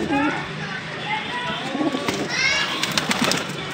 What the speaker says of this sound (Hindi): 30 कबूतर है मेरे भाई